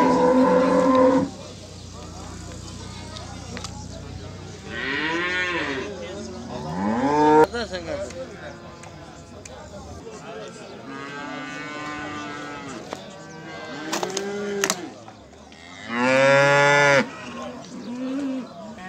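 Cattle at a livestock market in Beylagan moo repeatedly in loud, drawn-out calls spaced across the clip, with market chatter and background voices between them.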